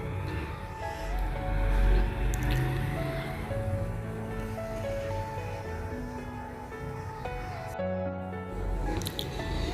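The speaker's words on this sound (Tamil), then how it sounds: "கருவேப்பிலை எல்லாம் போட்டு நல்லா வதங்கி கருவேப்பிலையோட ஃப்ளேவர் நல்லா அந்த ஆயிலில் இறங்கட்டும்." Curry leaves and asafoetida fry in hot oil for a tempering, giving a close, wet sizzle with spattering and bubbling that shifts in intensity, while faint background sounds continue.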